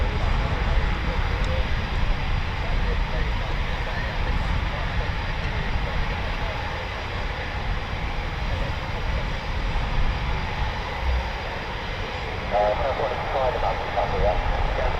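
An RAF Eurofighter Typhoon FGR4 jet roars past at RAF Coningsby, a loud, sustained broadband engine rumble filling the whole stretch, with people talking over it.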